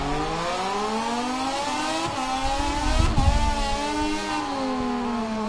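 A MotoGP motorcycle engine in a racing video game drops in pitch under hard braking, a loud sustained whine with a brief rumble partway through.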